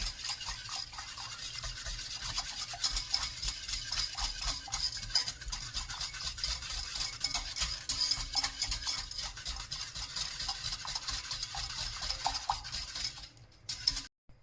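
Cabbage potée being stirred in a pot over low heat, a steady scraping and rubbing of a utensil against the pot that runs continuously at close range with no voices.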